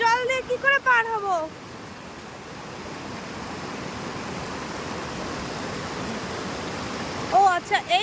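Fast-flowing stream water at Rohini waterfalls rushes as a loud, steady broadband roar. Voices speak briefly over it at the start and again at the end.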